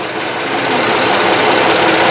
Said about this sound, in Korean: 엔진의 소음을 잠깐 들려드립니다.